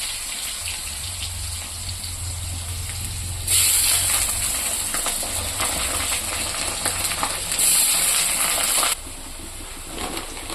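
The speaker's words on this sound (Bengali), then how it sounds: "আলুটা ভেজে দিচ্ছি।" Potatoes frying in a pan make a steady, close sizzle that runs the whole time, with a brighter, louder hissing surge in the middle stretch and occasional stirring scrapes.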